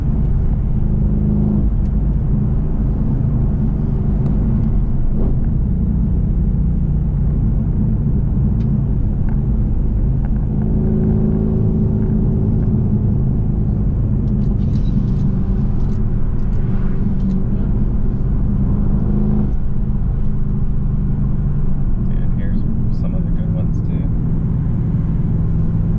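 A loud, modified Audi S6 drives on a road trip, its engine giving a steady, heavy rumble from inside the car, with a person talking over it throughout.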